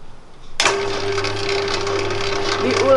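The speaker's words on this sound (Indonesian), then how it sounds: "Ini saya tuang, lalu kita proses di dalam mixer." A kitchen stand mixer kicks on abruptly and runs with a steady motor whine while kneading soft bread dough for a vla-filled roll, a continuous close drone with a faint rhythmic churn and no talk over it.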